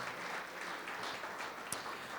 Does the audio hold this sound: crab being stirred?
no